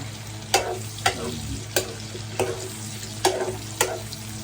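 Hotdogs frying in a pan with a constant sizzle, punctuated by regular clinks and scrapes of a utensil stirring, close up, no talking.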